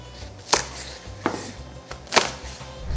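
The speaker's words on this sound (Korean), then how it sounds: "대파 한 대는 반으로 가르고요, 큼직큼직하게 썰어서 준비해 주세요" A knife chops green onion on a cutting board, four sharp, separated thwacks at an uneven pace, close and clear with no talking.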